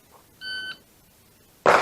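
On a handgun shooting drill, a shot timer gives one short, clear electronic beep, and a loud, sharp gunshot cracks about a second later.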